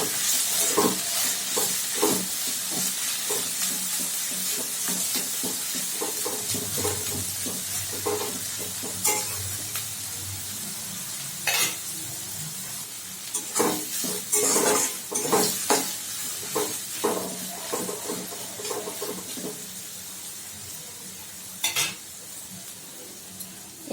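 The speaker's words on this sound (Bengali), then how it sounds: "বাঁধাকপির কুচিগুলো দিয়েও কিন্তু আমি খুব ভালো করে মিনিট 2 একটু ভাজা ভাজা করে নেব।" Shredded cabbage and carrot stir-fry in a pan for vegetable and egg chowmein, a continuous sizzle broken by repeated spatula scrapes and tosses against the metal, close and fairly loud.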